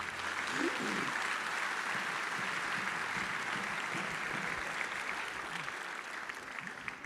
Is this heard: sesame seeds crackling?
no